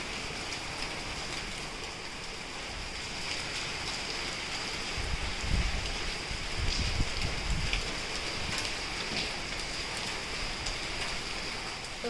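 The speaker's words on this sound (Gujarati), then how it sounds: "વરસાદ થોડોક એવો રહી ગયો છે" Light evening rain falls steadily, a soft continuous hiss with faint patter and a low rumble swelling midway, with no voices.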